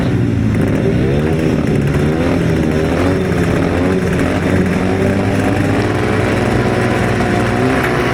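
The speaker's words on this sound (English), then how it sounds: "Away they go, Lee Bassett making a good start, and Gary Cook's gone with him" 250cc grasstrack motorcycles roar off the start of a race, a dense, loud, continuous wall of engine noise with shifting revs throughout.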